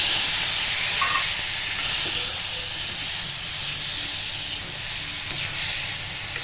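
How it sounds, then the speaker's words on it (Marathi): Prawns, head-on and unpeeled, searing in a hot pan, giving a steady loud hiss and sizzle that fades a little over several seconds, with no voices. "आता ते आपण परतवून घेऊया"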